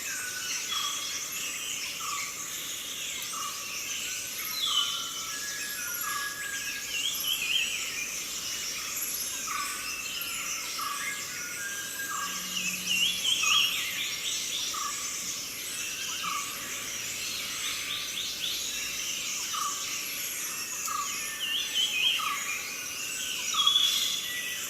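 Several birds call and sing against a steady bed of chirring insects, with scattered chirps and trills in a calm outdoor soundscape.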